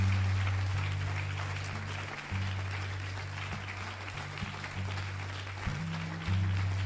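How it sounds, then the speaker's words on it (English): A church congregation claps together at an evening service, making a steady wash of applause. A sustained low organ or keyboard tone plays underneath throughout. "Let's give God a clap of praise tonight."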